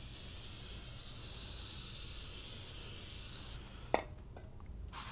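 Degreaser sprays onto the clutch pressure plate of a 2002-06 MINI Cooper non-S as a steady, close aerosol hiss. The hiss ends after a few seconds, followed by a sharp click and faint handling noises.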